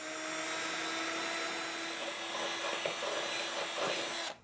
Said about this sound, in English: All right, got our hole drilled.